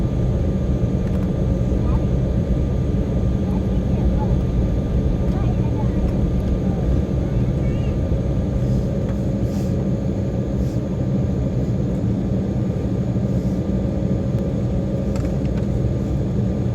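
Steady, broad engine and air rumble fills the cabin of an Embraer E190 airliner taxiing after landing at Townsville, continuous and even throughout with no distinct breaks.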